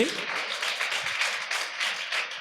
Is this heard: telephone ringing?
no